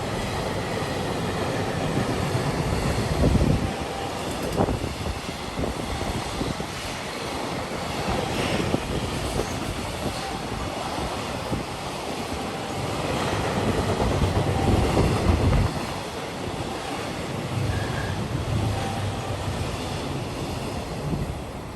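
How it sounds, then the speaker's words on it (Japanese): A long freight train rumbles steadily past close by at JR West's Hyogo Station in Japan, a continuous heavy roar of wheels and cars with some wind buffeting, and no voices. "普通列車を見送ったらすぐに貨物列車がやってきました。"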